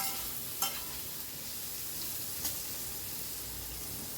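Fish mash with chopped onion stirred and fried in a pan, a steady close sizzle with two brief spatula scrapes against the metal.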